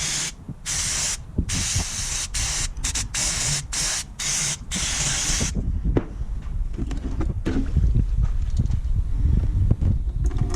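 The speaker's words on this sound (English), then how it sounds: "Give that a squirt with some brake clean." Brake cleaner is sprayed into the intercooler of a turbocharged Toyota 60 series in a string of loud, close, hissing aerosol bursts with short gaps, followed by quieter rumbling and rattling handling noise.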